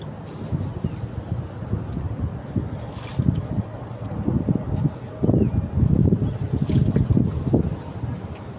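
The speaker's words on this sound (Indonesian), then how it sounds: "angin kencang banget teman-teman" Strong wind gusting and buffeting the microphone near water, a loud, rough, uneven roar swelling and easing in waves with no voices.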